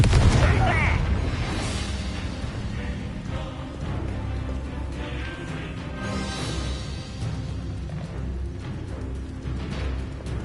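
Booming fire-spell blasts from the Confringo curse in Hogwarts Legacy, loudest at the start and then continuing as repeated bursts and rumbles amid game combat, with voices talking over the action.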